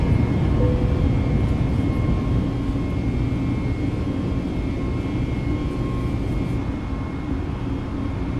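An airliner climbs after takeoff from Kathmandu bound for Paro, with a steady, loud engine roar and rumble heard continuously from inside the aircraft and a faint tonal whine running through it, with no talk.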